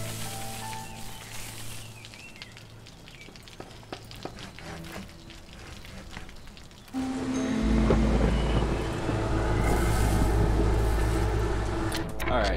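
Rain and rolling thunder during a storm in the video game Against the Storm, a steady wash of rain that swells louder halfway through with a deep low rumble, under faint background sounds.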